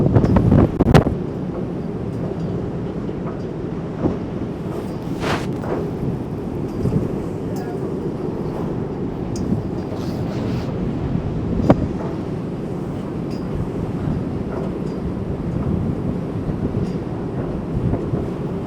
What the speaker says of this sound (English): Now the wind's actually hitting me from the back of my head.